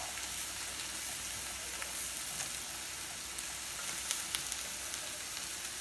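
Broccoli florets frying in a hot pan, a steady bright sizzle with scattered crackles and pops, close and even throughout with no talk.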